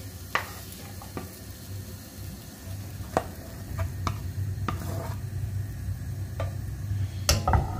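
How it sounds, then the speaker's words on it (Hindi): Soya chunks roast in a pan with a low, steady sizzle beneath a handful of sharp scraping and tapping strokes from stirring, spaced irregularly and close by. "आतां आमी सोयाक मातशें रोस्ट करुया"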